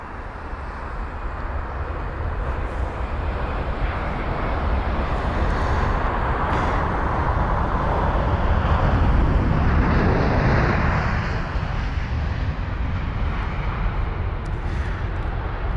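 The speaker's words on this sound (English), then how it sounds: "The 787-10 Dreamliner." A Boeing 787-10 Dreamliner lands at London Heathrow, a loud, steady jet engine roar with broadband rumble that swells in the middle and eases slightly toward the end, heard up close with no talking.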